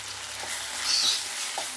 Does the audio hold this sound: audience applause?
no